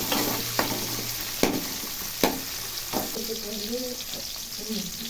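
Tomato and onion sizzle steadily in a hot pan with occasional scraping stirs, while a voice talks over the cooking.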